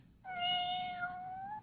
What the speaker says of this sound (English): sounds like a little kitten at the screen door